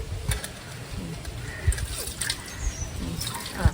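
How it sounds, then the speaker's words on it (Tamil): Water from a tap trickling and splashing while hands are washed in a home kitchen before cooking quail, a steady thin running stream with soft intermittent splashes and clatters, close by. "நீயும் கழுவிக்கலாம் இரு கழுவிக்கலாம் கை கழுவும் கை கழுவு"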